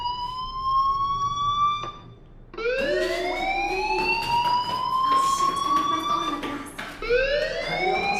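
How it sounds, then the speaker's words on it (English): In the video game Life is Strange, a fire alarm wails in repeated rising electronic sweeps, loud and continuous, briefly pausing before each new cycle. "Hey, do you hear that fire alarm?"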